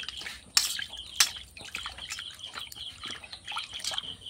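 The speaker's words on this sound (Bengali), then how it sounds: "প্রথমে গাজরটা আর পেঁপেটা ভালো করে ধুয়ে নিতে হবে।" Carrot and papaya are washed by hand in a bowl of water, giving close splashes, drips and trickles with a couple of sharper plops early on, with no talk.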